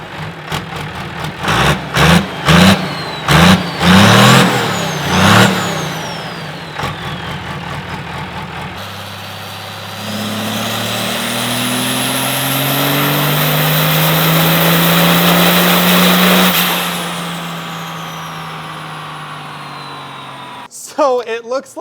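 A 1,000-horsepower Cummins diesel burnout truck roars close and loud, first in a series of rhythmic revving pulses, then in one long sustained full-power pull with a rising whine before the engine cuts back.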